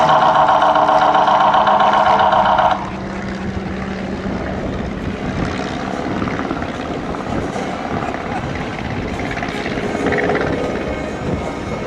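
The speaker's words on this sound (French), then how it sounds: "L'avion du Baron Rouge, aujourd'hui, il vous est présenté par Bruno Marlière." A Red Baron's WWI fighter plane at an airshow, its engine droning steadily with a loud tonal whine in the opening seconds, then a continuous rumbling roar.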